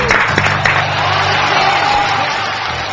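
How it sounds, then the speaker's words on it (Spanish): Studio audience applause on a TV show: a steady wash of clapping fills the room at full volume, with a brief voice at the start. "¡Aplausos, señores!"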